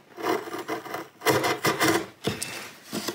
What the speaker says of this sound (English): Here I do it with a flat chisel